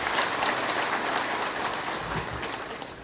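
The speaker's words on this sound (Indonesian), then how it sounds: "Mari tepuk tangan untuk kita semua." Steady clapping from an audience at a tenth-anniversary commemoration ceremony for Pegunungan Arfak Regency, a dense even patter lasting a few seconds with no voices over it.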